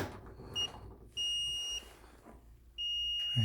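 Steady electronic buzzer from a fire emergency broadcast system during a test of its short-circuit protection unit, sounding in several long, even tones separated by brief gaps, fairly faint against a quiet room.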